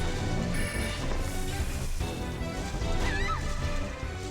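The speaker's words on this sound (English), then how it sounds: "Birds." Bird enemies attacking in the video game Lost Kingdoms, heard as squawking and honking cries over a dense, continuous wash of game effects and music with crashing hits, loud throughout.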